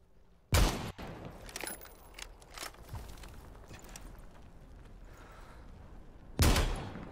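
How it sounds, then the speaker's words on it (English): Two sharp, loud gunshots in the Super People battle royale video game, one early and one near the end, with quieter clatter, shuffling and faint distant shots in between. "We get shot from the other side."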